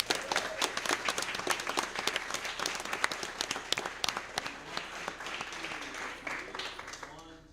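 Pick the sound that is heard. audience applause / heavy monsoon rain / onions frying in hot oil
audience applause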